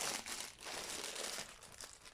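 Red crepe paper being handled and pulled out, giving a soft, continuous crinkling and rustling that rises and falls, close by and quiet, with no voices.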